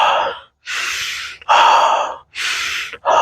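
Someone takes a series of strong, close breathy sniffs at a loaf of bread in a store bread aisle, four sharp intakes in quick succession with short pauses between, loud and near with no speech.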